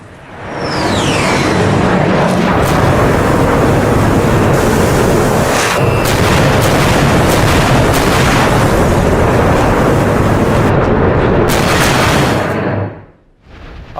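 A bunker buster bomb detonates against an underground tunnel, a loud, sustained roaring blast with rumbling debris that fills about twelve seconds before cutting off abruptly.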